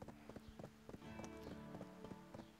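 Horse hooves clip-clop in a steady walking rhythm while riding toward the stables in the Black Desert video game, quiet and even, with game music and ambience underneath.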